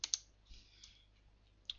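Keystrokes on a computer keyboard, a few quick clicks at the start and another single tap near the end, faint and close, over a quiet room hum.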